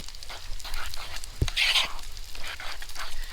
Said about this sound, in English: my bacon over there is still sizzling away